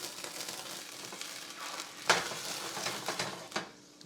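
A splash of vodka hits a hot pan for vodka sauce, giving a steady hiss and sizzle with a sharp crackling burst near the middle, close and without voices.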